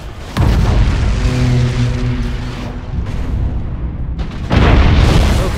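Orbital bombardment blasts in the space-warfare game Battlefleet Gothic Armada 2: a heavy booming impact hits after a brief lead-in, a rumbling roar with tonal hum carries on, then a second loud blast near the end.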